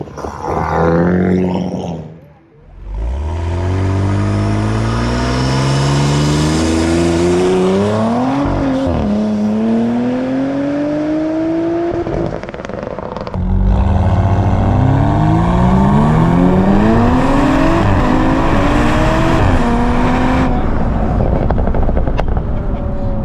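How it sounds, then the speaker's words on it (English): An Audi B9 S4 on a test drive after an overhaul accelerates hard, its engine rising in loud sweeping pitch through several gears with brief shift dips, roaring continuously and close from inside the car. "First test drive, let's see how she does."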